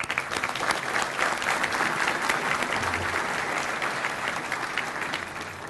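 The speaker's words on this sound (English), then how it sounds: "So if you'll please hold your applause." Sustained, dense audience applause at a city address, a steady wash of clapping that carries on for several seconds at even loudness before easing slightly at the end.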